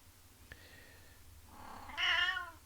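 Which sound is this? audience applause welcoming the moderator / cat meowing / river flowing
cat meowing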